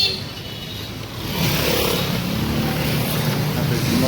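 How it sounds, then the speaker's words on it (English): A motorcycle passes on a busy street in Colombia, its engine noise rising after a second and holding amid traffic hum, with people talking nearby. "That's the motorcycle sound."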